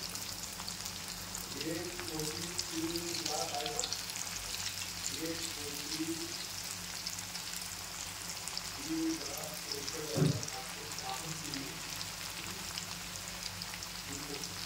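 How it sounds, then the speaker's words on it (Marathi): Colocasia leaf rolls (alu vadi) deep-frying in hot oil give off a steady, soft hiss throughout, with faint murmuring tones in the background. "आपण आता याच्यामध्ये वड्या सोडूयात आणि बघूयात कशा पद्धतीत तळतायत ते"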